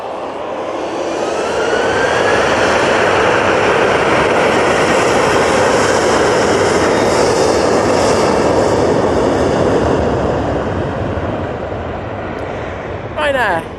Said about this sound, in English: Ryanair 737-800 now on the roll. It's off to Vienna.